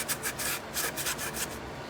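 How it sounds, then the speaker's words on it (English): Rust being scrubbed off an old Stewart-Warner 01-521 radio chassis, a close, steady rubbing and scraping in repeated back-and-forth strokes with no talk. "so I can just finish cleaning up the rust around this area"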